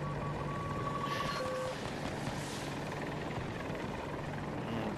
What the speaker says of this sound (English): Got the chopper.